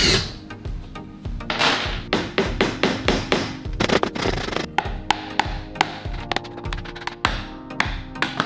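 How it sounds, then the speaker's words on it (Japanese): Rubber mallet tapping on a movable work table being built for fitting out a 2-horsepower boat: a close series of firm, dull knocks in an irregular rhythm, some clustered quickly, with no talk. "一応傷つかないようにゴムハンマーを使っています。"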